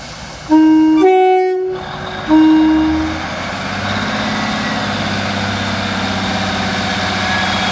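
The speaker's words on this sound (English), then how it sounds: "That Class 153 diesel multiple unit didn't go to Chattleston Sidings." A Class 153 diesel multiple unit train gives two loud horn blasts in quick succession, then its diesel engine drones steadily and rumbles close by as it moves along the line.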